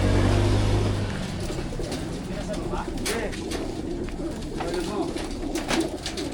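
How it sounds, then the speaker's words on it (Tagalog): Racing pigeons coo softly in the background among scattered wing flaps and clicks during club basketing, with a vehicle engine humming faintly and a brief voice at the start. "So, ito na yung mga ibon natin."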